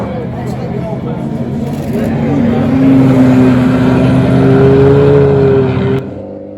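Vintage Talbot race cars in apple green run at the Goodwood Members' Meeting, a loud, crisp engine drone rising and sustained as the cars pass close by, with a commentator speaking over it.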